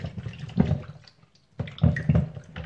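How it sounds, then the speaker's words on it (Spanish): Fruit being washed under a running tap for a fruit salad, heard as two close bursts of splashing water with a short quiet gap between them. "Ya aquí estamos lavando nuestro producto"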